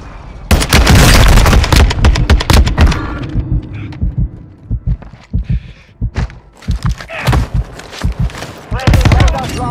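Gunfire in a video game firefight: loud, close bursts of rapid automatic shots, broken by short pauses and then single and clustered shots, with heavy thumping impacts and voices calling out between volleys.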